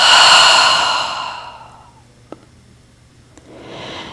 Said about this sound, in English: Let's take one deep inhale and then exhale.